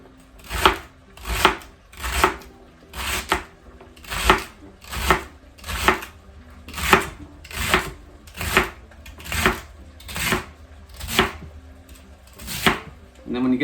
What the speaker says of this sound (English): let's finish cutting this up